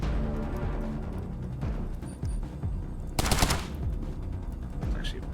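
Gunfire in the video game Colony Ship: a loud burst of shots around the middle over a constant dense game background, with a voice talking at times.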